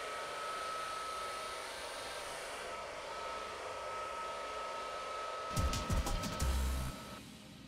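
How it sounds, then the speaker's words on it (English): A hair dryer runs with a steady whirring blow and a thin whine, then a few sharp clicks and knocks break in near the end. "Let's hope the hairdryer works."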